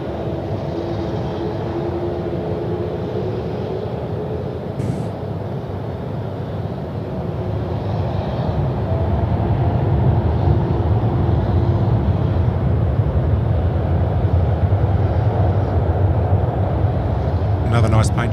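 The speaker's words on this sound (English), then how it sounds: "About to spool it up and go on the main north-south runway here." A jet airliner spooling up for takeoff on the main north-south runway at Sydney Airport at night, a steady roar that swells louder midway and holds, heard from a distance outdoors.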